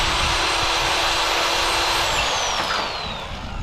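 A reciprocating saw fitted with a pruning blade cuts through a tree branch about three inches thick, a loud, close, continuous buzzing whine that holds steady, then drops in pitch and fades slightly near the end.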